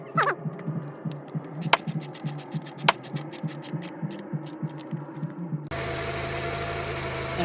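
A 2004–2008 Acura TSX with the K24A2 engine idling after an alternator replacement, a low steady throb close by with sharp clicks over it, then a louder, brighter rush of engine noise in the last seconds.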